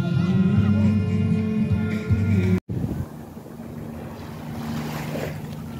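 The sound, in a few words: seaside waves and wind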